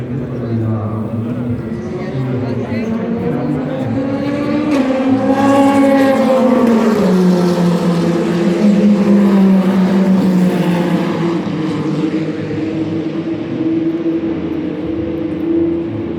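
Race cars at the 24 Hours of Le Mans 2023, a loud continuous engine roar whose pitch rises and falls as cars pass close by, with crowd noise throughout.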